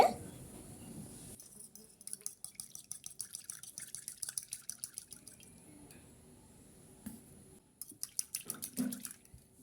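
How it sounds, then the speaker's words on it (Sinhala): Thick coconut milk pours into a pan as a wet, rhythmic run of drips and splashes, close and fairly quiet, broken by a few brief pauses. "ඔයගොල්ලෝ උක්කු පොල් කිරි තමයි පාවිච්චි කරන්න ඕනේ. මුලින්ම පොල් කිරි ටිකක් දාගන්න."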